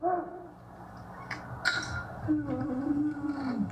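A long, wavering wail like a distant howl rises and falls from an unidentified creature in a played recording, preceded by faint scattered cries and set against a murky background.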